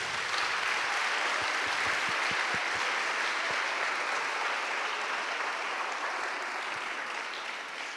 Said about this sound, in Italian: Allora facciamo un applauso al Vescovo